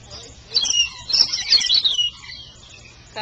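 Small birds chirp and tweet in quick bursts at close range as they are hand-fed a liquid diet, several high twittering calls clustered over faint background hum.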